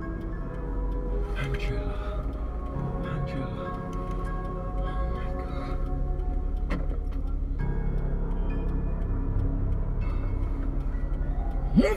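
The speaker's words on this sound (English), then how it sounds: "This damn traffic already!" Cars rumble past in road traffic, a low steady engine drone rising slightly, with occasional ticking and clicks and a voice speaking briefly over it.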